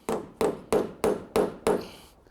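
Six sharp, evenly spaced taps of a hammer striking a nail set into mahogany deck boards, close and crisp.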